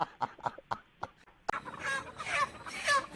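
A chicken being caught in a village clucks in a quick run of short calls, then squawks with flapping and scuffling as it is grabbed, close and fairly loud.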